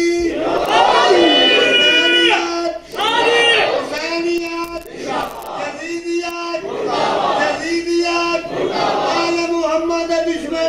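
Crowd at a religious majlis gathering shouts back in loud, rhythmic unison in repeated bursts after each call from a lead voice, with short pauses between the chanted responses.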